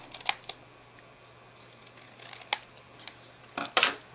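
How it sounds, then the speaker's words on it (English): Long scissors snip through strips of 2-inch cardstock in a quiet crafting setup, a few sharp isolated cuts spaced irregularly, with a closer double snip near the end over faint room hiss. "I'm just going to take some long scissors and cut three"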